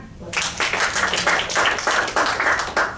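Audience at a church gathering clapping hands in a loose, fairly regular rhythm, with bursts of claps repeating close together over a faint background murmur.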